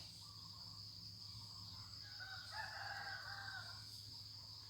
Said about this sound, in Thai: ไก่ตีครับไก่ตี สายพันธุ์พม่าครับ